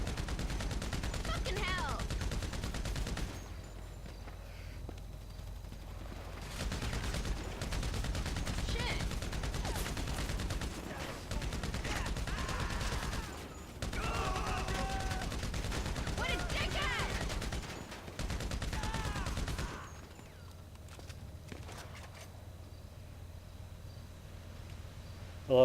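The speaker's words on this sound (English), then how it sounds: "I love it, all this gunfire." Sustained gunfire from a GTA V Online mission, dense bursts and rapid automatic fire in long stretches broken by brief lulls, loud and continuous through most of the passage.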